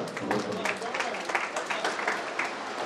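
An audience at a live music programme gives a burst of sustained applause for Nabanil Sarkar, dense clapping filling the room at a steady level with no break.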